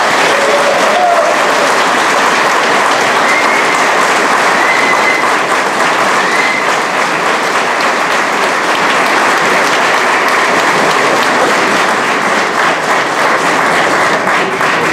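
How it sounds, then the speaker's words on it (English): Warm audience applause from a gathered crowd at a fraternity reunion, loud and steady continuous clapping from many hands, with a faint cheer early, sustained evenly without letup. "a warm round of applause"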